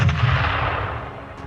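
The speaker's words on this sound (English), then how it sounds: "the grenade is exploded" Grenade explosion from the video game Halo: Reach, a loud, dense blast with a heavy low thump and broad rumble that decays steadily over a second and a half, with no voices.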